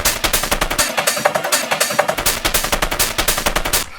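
A hard, crunchy schranz techno loop saturated through a wave shaper, chopped into rapid, stuttering pulses, loud and distorted with a steady driving rhythm and no voices.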